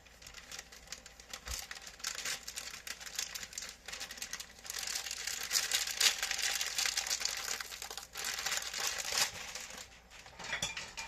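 Close-up crinkling and crumpling of a plastic lettuce bag, continuous rustling with sharper crackles that rises and falls, no voices.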